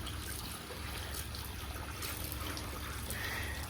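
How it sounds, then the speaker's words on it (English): Water overflowing the brim of a horse water trough, skimming off the surface film, gives a steady, close trickling and splashing that runs without a break. "I like to overflow the water a little bit just to get all the film off the top"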